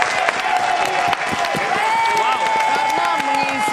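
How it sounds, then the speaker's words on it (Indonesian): Studio audience clapping and cheering on an Indonesian celebrity ranking show, a steady loud burst of applause with background music and crowd noise running throughout. "Tepuk tangan dulu dong."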